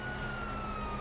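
Police sirens wail continuously in the GTA 5 video game, a steady high tone over a dense rumbling mix of game noise, loud and close throughout the short moment.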